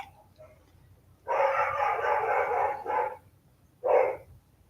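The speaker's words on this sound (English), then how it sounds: "I don't know what my dogs are doing." Dogs barking indoors at home, a long burst of rough, overlapping barks followed by a shorter one after a brief pause, fairly loud and close, with no talking.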